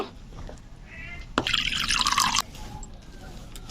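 Lukewarm water poured into a cup for coffee, a bright splashing pour lasting about a second after a few scattered drips and clinks.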